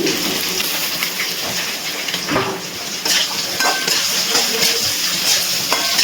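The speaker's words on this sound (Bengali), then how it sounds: "হাফ ভেজে নেওয়ার পর আলু, এবারে আমি এর মধ্যে ঝিঙেগুলো দিয়ে দিচ্ছি" Ridge gourd and potatoes frying in a pan give a steady, loud sizzle. Metal clinks and scrapes of a spatula against the pan sound now and then over it.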